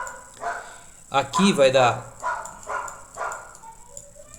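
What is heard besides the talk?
neighbour's dog barking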